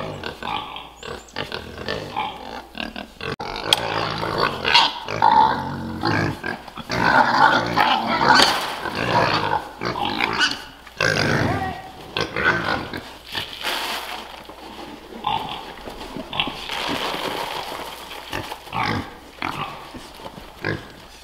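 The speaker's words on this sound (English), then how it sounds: "And Mr. Hereford, he is our meat pig." Several pigs on a cold-weather homestead, including a meat pig, grunt and oink close by in irregular bursts, with snuffling and short squeals over the stretch and faint voices now and then.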